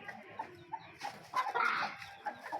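A rooster on a backyard aseel farm gives a few short clucks and squawks at close range, rising into a louder flurry of calls midway as it is caught and handled.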